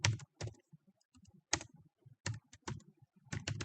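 Code being typed on a computer keyboard, close and crisp, with bursts of several rapid key clicks separated by short pauses, alone without talk.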